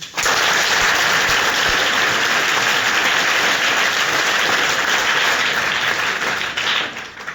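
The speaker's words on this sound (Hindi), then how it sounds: "तो एक बार टीचर्स के लिए अच्छे से जोरदार वाला ताली बजाओ" Loud, sustained applause for teachers from a large group, dense steady clapping that holds for several seconds before tapering slightly at the end.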